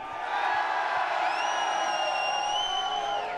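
Crowd cheering and whooping at a Halo esports major in Salt Lake City, a sustained arena roar with a few high shouts rising over it, loud and steady throughout.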